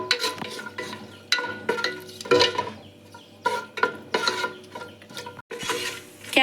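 Cashews roasting in ghee and oil in a pan, heard as a close, crackling sizzle broken by repeated scraping and stirring strokes against the pan.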